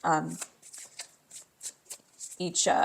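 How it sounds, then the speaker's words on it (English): Tarot cards from a deck riffle and flick in quick bursts, crisp and close, with a person talking before and after the shuffle. "I'm going to pull 2 cards each for each"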